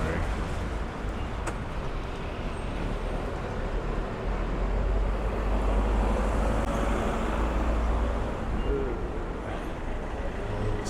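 Steady, dense street traffic on Ischia island, a continuous close rumble of engines and passing vehicles that holds at an even loudness throughout.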